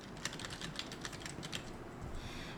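Steady, fairly quiet typing on a computer keyboard while entering a header in a word-processing document, with a dense run of key clicks that thins out toward the end, no voices.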